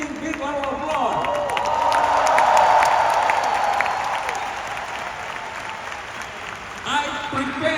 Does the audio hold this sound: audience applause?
yes